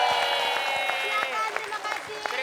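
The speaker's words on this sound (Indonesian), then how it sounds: "kalau gitu tepuk tangan untuk keluarga Mbak Femi." A studio audience at an Indonesian comedy show claps steadily, sharp individual hand claps standing out over the crowd's applause, with faint voices mixed in underneath.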